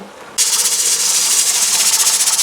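Loud steam hiss bursts in suddenly and keeps going with a rapid, pulsing chuff as a pressure canner weight rocks while canning potatoes, close by.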